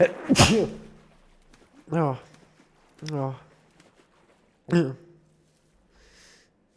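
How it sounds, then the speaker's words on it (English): A single sharp, explosive sneeze bursts out at the start, followed by several short exclaimed vocal sounds from the same person, spaced apart with quiet between them. "That was a sneeze."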